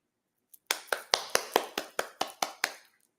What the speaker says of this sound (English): I clap for myself on that one